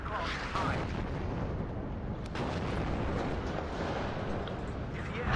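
A rocket artillery barrage in a war strategy video game makes a dense, continuous roar of overlapping explosions and rumbling booms, heavy and close throughout, with occasional sharper bursts.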